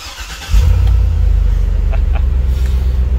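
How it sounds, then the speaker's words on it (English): A Honda Civic with a straight pipe exhaust and 86,000 miles turns over and settles into a loud, deep, throaty idle, close by and steady, with no voices. "God, the straight pipe sounds so good."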